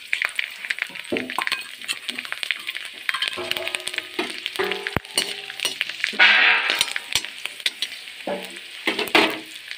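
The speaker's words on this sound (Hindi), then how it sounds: "थोड़ी लहसुन डाल देंगे," Garlic sizzles in hot oil alongside chillies and coriander seeds, with a spoon stirring and clinking against the pan in irregular bursts over a continuous frying crackle, close and fairly loud.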